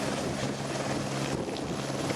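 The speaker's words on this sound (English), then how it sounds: "I was wondering why everybody hid behind the trees before the helicopter took off." A helicopter taking off roars continuously with a dense, steady rotor and engine wash, close and loud throughout, without any voices.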